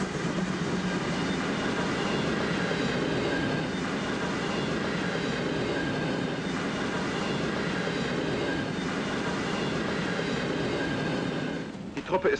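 Heavy special train hauled by a steam locomotive rolls past steadily, a dense continuous rumble and rattle of rail cars that holds for about twelve seconds before a few brief knocks at the end.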